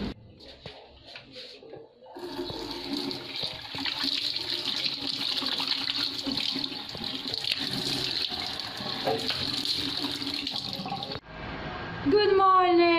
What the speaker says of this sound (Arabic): نروح نغسل وجهي ونجي